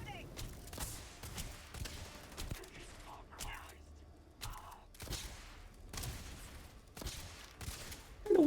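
Plasma gun firing in the game Starfield, a series of sharp bursts at uneven intervals over a low background, moderately loud, with occasional talk between shots.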